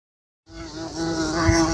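A maribondo wasp buzzes close by, a sudden humming drone that starts after a brief silence and swells slightly in loudness as it continues.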